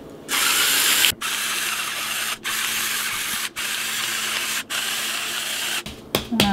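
A grinder grinding salt over pork chops, loud harsh rasping in five long sustained bursts separated by brief pauses, close by with no talking.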